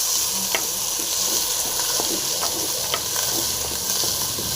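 Green chilli, curry leaves and spices fry in a pan with a steady, close hiss of sizzling oil, broken by faint clicks and scrapes from stirring.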